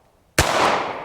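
A single sharp gunshot from a Smith & Wesson 342PD snub-nosed revolver fired one-handed at an outdoor range, loud and close, cracking after a quiet moment and trailing off briefly.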